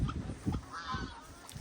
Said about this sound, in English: Why are you being nasty? African geese are supposed to be nice.